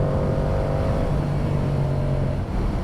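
A Yamaha R7 motorcycle running an FTECU tune gives a steady, moderately loud exhaust drone while engine braking, a continuous muffled hum with no speech over it.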